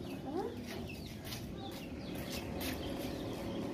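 Hens on a farm clucking and calling at a steady, moderate level in a noisy outdoor setting, with a few sharper squawks and faint background voices.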